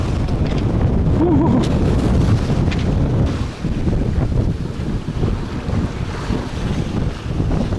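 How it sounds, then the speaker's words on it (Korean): Strong wind of about 20 knots roars across the microphone aboard a sailing yacht off Jeju, a loud constant buffeting with water wash beneath and a brief murmur of voices. "지금 와 바람이 20노트"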